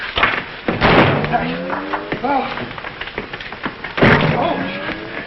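A door slams with heavy broadband thuds, once near the start and again about three seconds later, in an old comedy film scene while people talk throughout.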